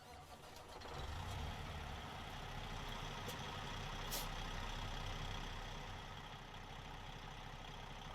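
An International Lonestar truck in American Truck Simulator cranks over briefly, then settles into a steady, rumbling diesel idle that fills the rest of the clip at moderate loudness, with a few faint clicks on top.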